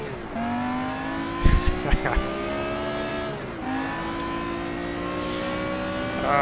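A BMW CSL touring race car engine in the racing game GT Legends revs hard through rising gear pulls, with a sharp drop at a gear change, brief tire squeals and clunks, loud and continuous.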